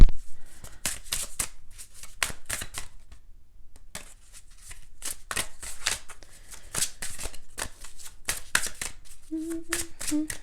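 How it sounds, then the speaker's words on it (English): Tarot-style fortune cards being shuffled and pulled from a deck, with repeated crisp riffling bursts and soft card slaps close by, broken by short pauses, plus a brief tone near the end. "Let me pull some of these fortune cards really quick."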